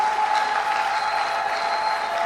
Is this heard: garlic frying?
no